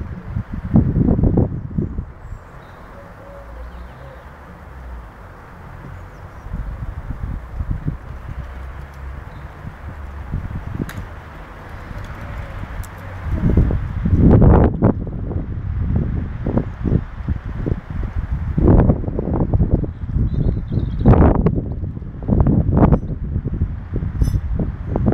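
Wind blowing outdoors, a steady rushing gust with rustling and buffeting that swells louder in the second half, broken by heavy irregular thumps.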